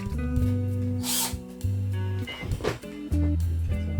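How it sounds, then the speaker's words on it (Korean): A power drill bores a hole for an LED ceiling light fixture in wood, its motor whining in several loud bursts with short pauses between, close by, with faint scraping in the gaps. "중간에 구멍을 좀 뚫어줘야 돼."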